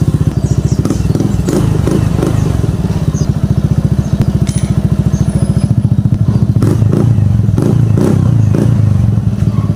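A Suzuki Burgman 125 scooter idles with a Yoshimura R77 small muffler fitted, giving a loud, close, steady low exhaust putter with rapid rhythmic pulsing and a few blips in engine note.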